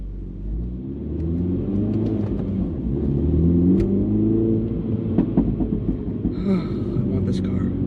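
A Mini John Cooper Works engine drives across an empty parking lot, its steady low rumble rising and falling through revs over nearly eight seconds, with people talking over it.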